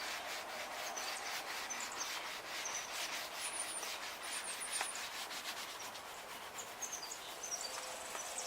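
Wet sanding of a car headlight lens with soapy water gives a steady, close, rhythmic rubbing hiss that continues without pause, with faint bird chirps and insect sounds from outdoors in the background and no talking.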